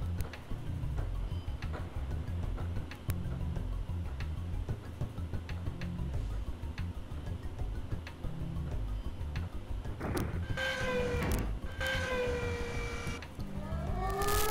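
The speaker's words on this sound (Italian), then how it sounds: "Eccolo qua, la sirena." End-of-work siren in the Shenmue video game, rising and wailing in repeated tones after a long stretch of steady ticking, with no talk.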